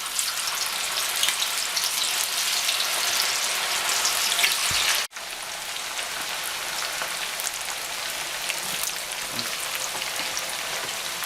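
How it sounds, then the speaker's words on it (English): Sliced plantains fry in oil over medium heat, giving a steady, dense sizzle like heavy rain that runs unbroken apart from one brief dropout midway, with no voices. "Now we're ready to fry the plantains."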